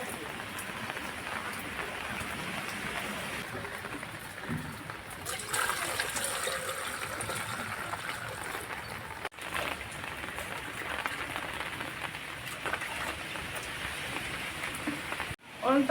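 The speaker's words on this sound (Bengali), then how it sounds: "দেখতে পাচ্ছ কত বৃষ্টি হচ্ছে" Heavy rain falling outside a home, a steady, dense hiss of rain and trickling water lasting throughout, with a voice faintly heard beneath it.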